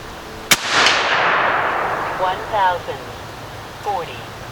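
A single sharp .50 caliber rifle shot fired at a 60-yard target cracks loudly near the start, followed by a long fading echo, then a few brief metallic rings and light clatter.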